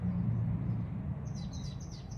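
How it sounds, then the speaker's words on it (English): Small birds chirp outdoors near a tree on a cold day, with a short run of faint, high tweets rising over a low rumbling background, the calls arriving in the second half. "You can hear the birds chirping."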